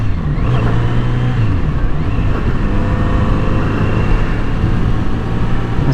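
Kawasaki Z900RS Cafe motorcycle engine running close and loud, with a brief small throttle blip early on before it settles into a steady low throb.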